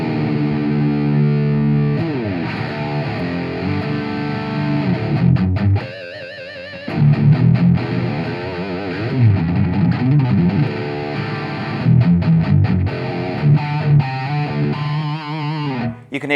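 An electric guitar, a Palm Bay AXX tuned to drop D, played through heavy distortion with chorus, with chugging low riffs, ringing chords and brief pauses between phrases, loud and alone.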